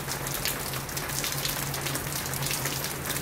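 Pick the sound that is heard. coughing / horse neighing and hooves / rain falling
rain falling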